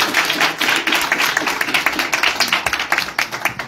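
A comedy show audience applauds to welcome the next comedian onstage, a loud, close burst of many hands clapping that keeps up steadily and grows choppier and more distinct toward the end.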